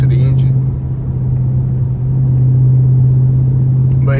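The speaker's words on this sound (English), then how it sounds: "just listen to the engine" A car engine idles with a steady low hum, close and loud, with brief bits of voice at the start and end.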